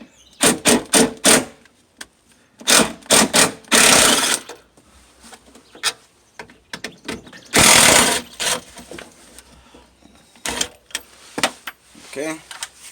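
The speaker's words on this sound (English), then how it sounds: "I'm going to be using the 10mm socket" A ratchet with a 10mm socket works bolts loose on a 1998 Dodge Grand Caravan, giving loud, close bursts of rapid clicking separated by pauses, along with some softer handling noises.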